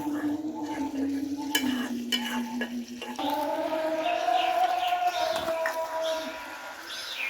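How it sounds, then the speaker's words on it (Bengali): Meat and potatoes sizzle in a small wok over a firewood stove in a play kitchen, with repeated scraping stirs and clinks of the pan. Voices hum faintly in the background. "এখন মাংস দেওয়া হচ্ছে, যে মাংসগুলো ভাজছিল, আলু আর মাংস একসাথে দিতেছে"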